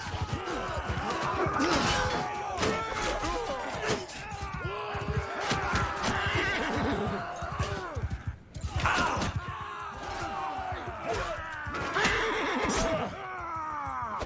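Horses whinny and neigh repeatedly in a chaotic battle in the Mount & Blade II: Bannerlord video game. The loud, layered cries overlap with clashing and thudding combat noise throughout.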